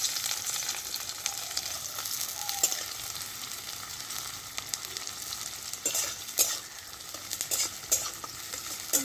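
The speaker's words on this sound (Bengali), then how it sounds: "তেল গরম হয়ে গেছে, পেঁয়াজ কুচি দিয়ে দিলাম" Chopped onions frying in hot oil for an egg poach curry, a steady broadband sizzle with scattered stirring clinks and scrapes, close and continuous, no voices.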